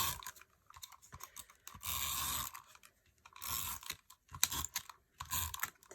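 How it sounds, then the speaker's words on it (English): A tape runner lays adhesive across a thick heat-embossed card front, producing repeated scratchy, rasping strokes in short bursts separated by brief gaps, close and quiet. "This is a thicker one, so I'm putting a lot of tape on here."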